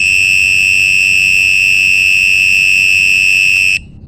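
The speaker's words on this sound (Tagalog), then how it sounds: "iyon po yung electric bike horn niya" An electric bike horn's anti-theft alarm gives a loud, steady electronic tone, high and piercing, sounding continuously for several seconds before cutting off abruptly.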